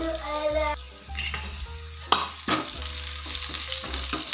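Onions fry in a hot pan with black pepper and curry leaves for foxtail millet pongal; a constant sizzle sits under repeated close scraping and clattering stirs of a spoon against the pan.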